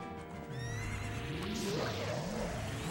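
A horse in Zelda: Ocarina of Time gives a loud, wavering neigh that rises and falls for a couple of seconds, with light hoof clip-clop beneath it.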